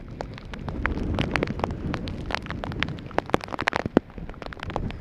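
Heavy rain during a cyclone alert, a dense steady patter of drops striking hard surfaces with sharp splashy impacts scattered through the hiss, continuous and fairly close, with no voices.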